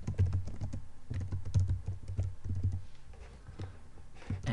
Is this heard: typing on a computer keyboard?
yes